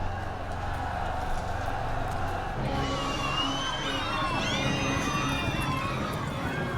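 A crowd cheers at the death of a barbarian general, building from a dense roar into a swell of shouts and whoops from many voices.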